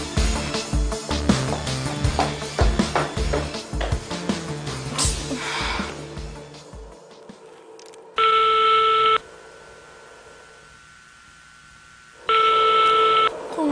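Telephone ringback tone on an unanswered call in an Indonesian romantic TV drama: two long, steady electronic tone bursts separated by a few seconds of quiet, after a stretch of busy background music.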